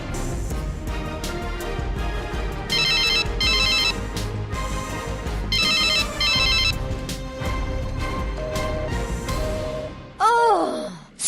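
A phone ringtone plays continuously for about ten seconds, a busy electronic tune with repeated bright trilled phrases, loud and close, and it cuts off in a sudden falling tone near the end.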